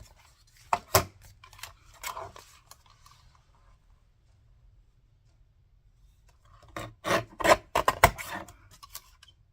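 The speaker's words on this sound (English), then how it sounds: "I might just use my little trimmer for this one." A small paper trimmer cuts out a picture for a retro journal, giving a couple of short rasping slices early on, a pause, then a quick cluster of crisp cutting strokes, close and fairly quiet.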